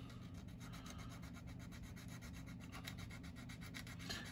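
Steady back-and-forth sanding on a plastic part from a Revell 1968 Chevrolet Chevelle SS396 scale model kit, a close, continuous rhythmic rubbing scratch heard alone without talk.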